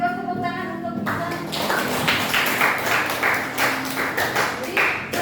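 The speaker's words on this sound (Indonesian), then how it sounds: "kasih tepuk tangan untuk Isan" A classroom of students claps for a classmate, bursts of clapping that rise after a brief tonal opening and continue in uneven waves at close range.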